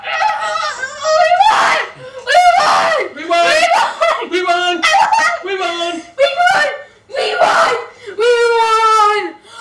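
A group of people scream and shriek in celebration after winning the cooperative board game Flash Point, loud bursts of excited high-pitched yelling mixed with laughter.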